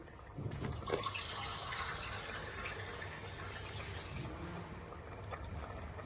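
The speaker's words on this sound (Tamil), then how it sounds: "நம்ம இன்னும் 1 கப்பு தண்ணி தான் ஊத்தணும்." Water is poured into a pressure cooker holding Dindigul-style mutton biryani, a steady low splashing and gurgling fill under a faint background hum, with a few louder splashes at the start.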